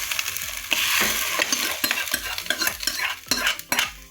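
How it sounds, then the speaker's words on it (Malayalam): A sizzling spoon of tempering, with fried onion, curry leaves and popped mustard seeds, is poured into a homestyle Kerala taro leaf curry. It crackles and hisses steadily at close range, with scraping stirring strokes and no talking. "അങ്ങനെ താളിച്ചൊഴിച്ചു."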